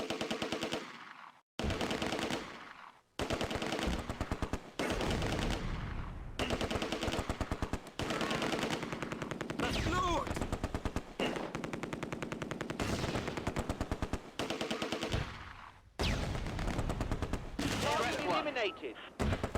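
Sustained machine gun fire in Close Combat: A Bridge Too Far, a WWII game set at Operation Market Garden, as a platoon engages an anti-tank squad in woods; loud, rapid bursts rattle almost continuously, broken by a few short pauses.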